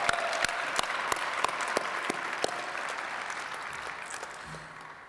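Audience applause at an Air Force exhibit opening event after a musical rendition, steady clapping with a few sharper nearby claps, fading slightly toward the end.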